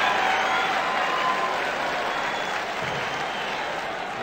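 Steady applause from a large crowd in a darts video game, a dense continuous clatter of clapping held at an even level throughout.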